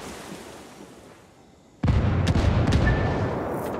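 A frag grenade blast in Ghost Recon Wildlands PvP: after a quiet stretch of low ambient rumble, a sudden loud boom erupts and rolls on as a sustained roar with scattered crackles.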